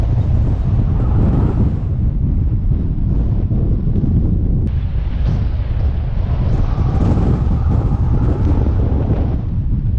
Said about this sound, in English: pretty insane gusts